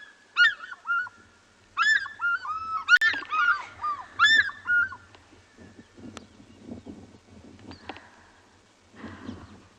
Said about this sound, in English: That sound is said to be one of the most iconic sounds of Africa, or at least South Africa, the fish eagle.